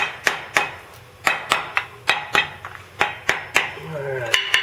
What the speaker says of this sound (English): Now if I set this down, I can tap on it a little easier.